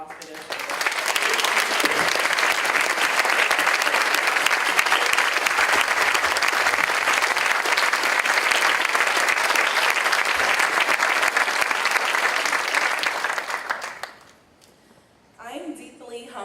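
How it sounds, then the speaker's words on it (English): Sustained audience applause at a leadership event for the program committee, dense and steady for about fourteen seconds before quickly fading out, with a voice briefly speaking afterward. "I would like them to stand and for us to give them a round of applause for their service."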